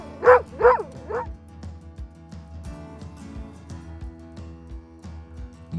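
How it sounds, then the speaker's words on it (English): A dog barks twice near the start, followed by a softer yip, over a faint low background hum. "spy dogs."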